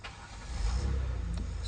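2016 Kia Sorento 3.3 V6 cranking and catching after a crankshaft sensor replacement, a short starter burst rising into a close, steady idle rumble.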